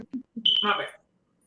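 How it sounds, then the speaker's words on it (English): A smoke detector with a dying battery gives a single short, high electronic chirp indoors, set between brief bursts of nearby talking. "I think the battery in my smoke detector just died"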